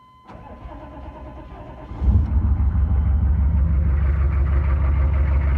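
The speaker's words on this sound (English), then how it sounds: "let me start the truck up and show you" A 1993 Chevy K3500 with a 6.5 diesel and a holed piston cranks briefly, then catches and runs at a loud, rough, steady idle close by.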